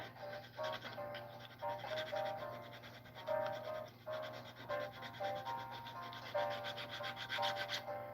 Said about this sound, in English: This is a finer toothed file.